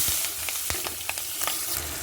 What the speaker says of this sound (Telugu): పచ్చిమిర్చి ఉల్లిపాయలు ఏగుతున్నాయి చూడండి